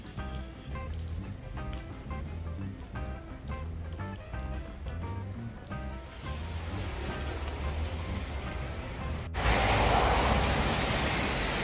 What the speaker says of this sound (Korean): 지금 운서 영종도에도 비가 지금 많이 오고 있네요